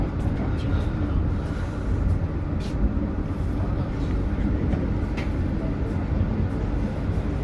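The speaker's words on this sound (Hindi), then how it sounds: "ट्रेन हमारी इस वक्त साहिवाल रेलवे स्टेशन पहुँच रही है, अप्रोच कर रही है" Shalimar Express passenger train approaching Sahiwal railway station, heard from inside a carriage as a steady low rumble and rattle of wheels and car body, with faint clicks on top and no break in the noise.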